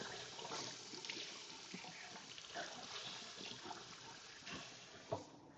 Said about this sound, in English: So what I'm going to do is rinse my hands again.